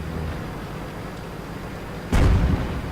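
Self-propelled artillery firing in World of Tanks game: a single sudden boom near the end, breaking through steady background engine rumble.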